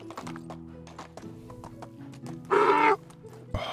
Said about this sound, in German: Schon wieder den Esel verletzt.